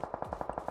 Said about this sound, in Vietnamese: bắn nhau kìa, bắn nhau kìa